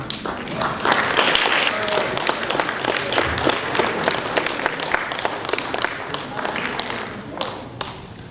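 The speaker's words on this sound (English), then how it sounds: "I would like to have a very good clap for the Honorable Mr. Brent." An audience at an awards presentation claps in a thick, busy spread of claps that peaks early and then continues at a slightly lower level, with some murmuring underneath.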